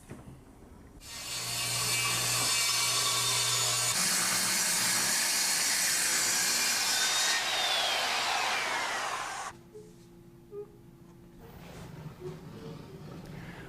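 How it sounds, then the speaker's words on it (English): A wooden Dobsonian telescope mount turns on its ground board and tilts up and down in plywood cradle boards, giving a long loud grinding, rubbing hiss up close, then quieter knocks and handling afterward. "this thing swivels around on top of the ground board. And then this goes up and down like this in the cradle boards."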